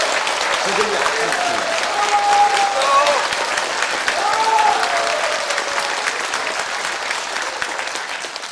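Audience applause fills a room at a National Assembly forum on amending the truth and reconciliation commission law, steady and moderately loud, with voices and faint talk mixed in over it.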